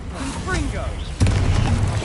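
A Confringo fire spell in Hogwarts Legacy lands with a sudden deep boom midway through, its rumbling tail filling the rest of the moment over a voice and busy combat sounds.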